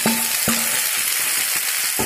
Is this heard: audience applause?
no